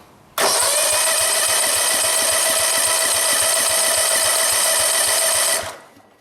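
A Kawasaki four-stroke engine is cranked by its starter during a compression test, giving a loud, even, rhythmic whirring that runs for about five seconds and then winds down.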